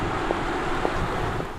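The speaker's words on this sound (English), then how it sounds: "Just tire and wind noises." A steady low rumble of tire and wind noise from a moving Audi R8 e-tron electric car, smooth and continuous with no engine tone.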